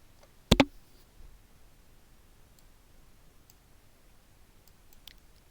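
A computer mouse gives a sharp, close double click, then a few much fainter ticks follow across an otherwise quiet room.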